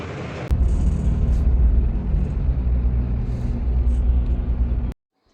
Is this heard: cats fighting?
no